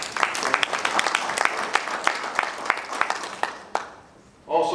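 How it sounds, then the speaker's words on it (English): A live audience at a Black music community event gives a round of applause, with steady, fairly close clapping that fades out near the end before a voice begins. "Adrian Council, let's give them a round of applause."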